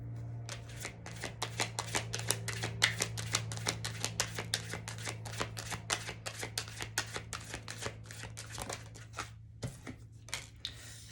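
A Da Vinci tarot deck is shuffled at length in a fast, even run of close card flicks, quiet and steady for about ten seconds against a low constant hum, no voices.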